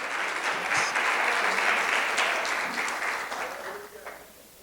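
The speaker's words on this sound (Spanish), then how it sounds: "Fuertes palmas al Señor" A church congregation clapping loudly and steadily in dense, sustained applause, with a few voices mixed in, tapering off slightly toward the end.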